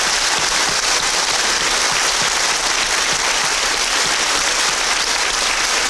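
Loud, dense applause from a large audience, continuous and steady with no voices standing out.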